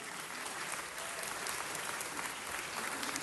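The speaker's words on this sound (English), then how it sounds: "Let's give them all a big round of applause." Sustained applause at a city council meeting, many hands clapping in a continuous wash with no voices breaking through.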